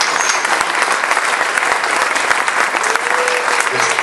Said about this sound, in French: Je vais vous demander de lui faire un accueil chaleureux sous un tonnerre d'applaudissements.